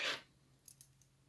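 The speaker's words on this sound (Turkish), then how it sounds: "İpimi kesiyorum burada." Scissors snip through crochet thread once, a crisp close cut at the start, followed by a few small faint clicks of the blades in a quiet room.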